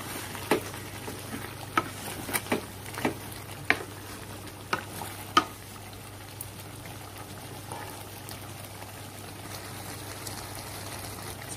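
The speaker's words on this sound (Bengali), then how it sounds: "5-7 মিনিট পর ঢাকনা খুলে আবার কষিয়ে নিব।" Chicken curry being sautéed in a pan, with a soft steady sizzle under a series of sharp scraping knocks from stirring that fade after the first half.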